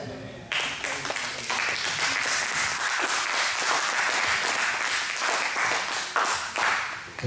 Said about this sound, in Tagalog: Yung mga palakpak niyo